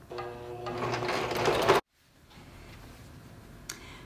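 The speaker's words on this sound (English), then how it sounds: "So there's my first stitching line completed, zigzagging down the quilt." A sewing machine stitches a zigzag line down a quilt with a close, steady whirring hum for nearly two seconds, then stops abruptly, leaving a faint background and one soft click.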